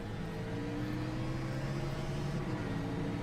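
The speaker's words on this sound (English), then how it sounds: "As he grinds through the gears," A race car at Chicagoland Speedway drones loudly and steadily as it accelerates, with its engine pitch rising in a sustained whine and no voices over it.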